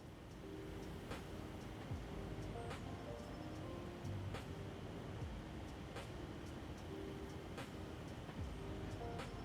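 A train rolling along rails in a video game, a constant low rumble with faint periodic clacks and tonal hums, steady and moderately quiet throughout.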